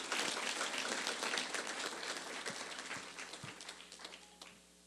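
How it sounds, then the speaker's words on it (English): Audience applause for Mr. Whitten, introduced by the outgoing county manager at a county Black History Month event, as broadband clapping that fades toward the end. "Please give Mr. Whitten a round of applause."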